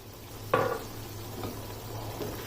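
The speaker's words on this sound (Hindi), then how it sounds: "अब इसे 2 से 3 मिनट तक भून लेना है ताकि ऑयल इसमें से बाहर आ जाए।" Spinach and potato curry with garam masala and green chillies being fried and stirred in a pan: a sharp spatula scrape at the start, then a low, steady sizzle with a few soft stirring clatters.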